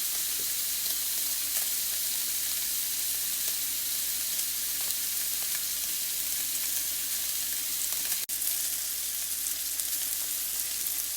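Small lamb chops sear in a hot pan with a steady, even sizzle that runs throughout, close and unbroken, with no voices over it.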